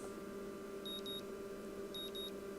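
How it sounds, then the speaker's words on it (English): An alarm clock in the Katawa Shoujo video game gives two quick pairs of high electronic beeps, faint and evenly spaced over a soft, steady background hum. "I don't know why I keep the early alarm on anymore, but it wakes me up the next morning just the same."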